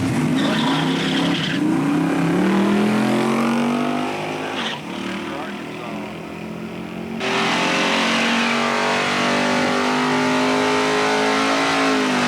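Drag race cars at Centerville Dragway, 2000, roar off the line and rev hard, a loud sustained engine wail that dips briefly before surging again. An announcer's voice is heard over the engines.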